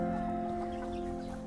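A small bantam chicken clucking close by in a bonsai garden, a short soft cluck set against a steady background hum.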